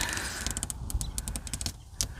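Protective film peeled back from an RV door gives faint, close crackling ticks and small creaks in a quick irregular series, with no voices.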